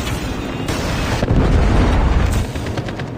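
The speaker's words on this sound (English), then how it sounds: "Predator missile inbound." A predator missile strike in Call of Duty: Mobile lands as a heavy, booming explosion with a deep rumbling tail that swells in the middle and then decays, alone with no speech over it.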